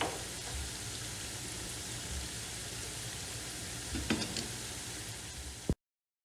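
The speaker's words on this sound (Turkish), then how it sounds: "Etlerimizi sulanıp suyunu çekene kadar kavuracağım." Meat for çökertme kebab sautéing in a pan, a steady close sizzle and crackle with occasional stirring clatter, ending abruptly.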